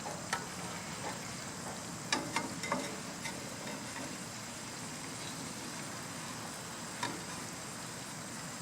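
Ranch meatballs sizzle in a pan on a backyard barbecue grill, a steady close frying hiss broken by a few sharp ticks and pops, with no speech.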